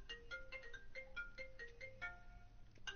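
A phone rings in the video game The Division, a repeating electronic ringtone of bright chirping tones in steady bursts, moderately loud over faint game ambience.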